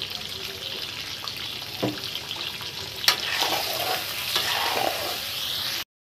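Onions frying with egg, seasoned with salt and turmeric, sizzle steadily in a pan while being stirred, with a few scraping clinks of the utensil close by.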